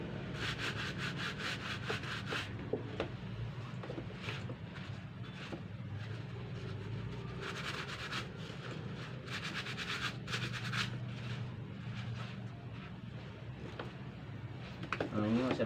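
A stiff brush scrubs back and forth over a fabric bag, producing repeated scratchy, rasping strokes in bursts, close up, while someone talks quietly over part of it.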